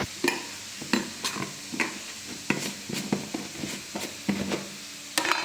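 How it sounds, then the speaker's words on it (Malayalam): Onions sautéing in a pan with salt, stirred repeatedly so the spoon scrapes and clatters in irregular bursts over a soft background sizzle. "അപ്പോൾ ഇതൊന്ന് വഴണ്ട് വരട്ടെ, പെട്ടെന്ന് സെറ്റാവും."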